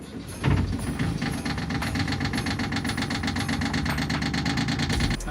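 A diesel engine, due for an oil change, cranks and catches, then settles into a loud, close, rhythmic clattering idle with a steady knocking pulse and no voices.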